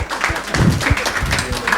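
A church congregation at a Sunday service claps in praise, producing uneven bursts of hand claps with a few sharper, heavier hits. The clapping is fairly loud and close, with no clear talking.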